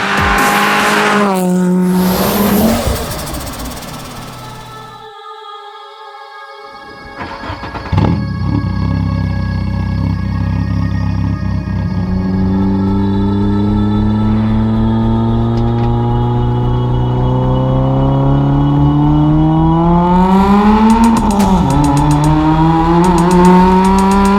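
An SR20-engined Nissan Almera GTi with a cam upgrade slides with loud, drawn-out tire squeals and a howling engine, a brief lull midway before the revs and screeching tires surge back, close and sustained.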